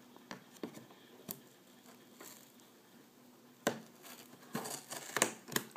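Scissors snipping and tearing through the seal on a Corsair GS800 PSU box, a few sharp close cuts and crinkles spread out with quiet gaps between them.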